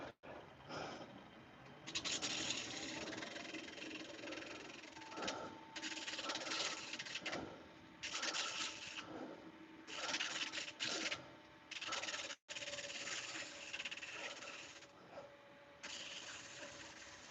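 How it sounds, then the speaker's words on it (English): Continuous rough rubbing and rasping as wood is sanded on a lathe, in bursts of a few seconds, with a steady mechanical hum underneath and brief pauses between passes. "We're just going to do a quick bit of sanding, take that off."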